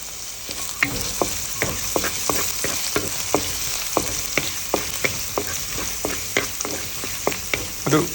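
Ginger and garlic stir-fry in a hot pan for a Kerala dried prawn curry, a bright sizzle punctuated by a steady run of quick spatula scrapes and taps, about two or three each second.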